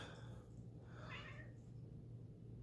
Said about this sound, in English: my cat is wanting to say hi